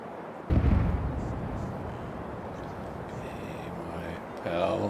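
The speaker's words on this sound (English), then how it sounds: "we are changing for grape shot, which is a bag of musket bullets, which is stuffed into the cannon" A ship's cannon loaded with grape shot, a bag of musket bullets, fires in the naval combat game Caribbean Legend: a sharp, heavy boom opens, then a long rumbling roar with scattered crackles and a second swell near the end.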